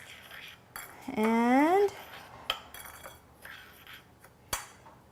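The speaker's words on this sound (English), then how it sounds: "Give that a good mix." Breadcrumbs, garlic, paprika and onion powder being mixed in a bowl, with scattered clinks and scrapes of a utensil against the dish, a brief sung or hummed voice, and a word of speech.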